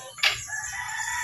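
A chicken calls once, a brief loud squawk near the start followed by a sustained crowing tone that carries to the end.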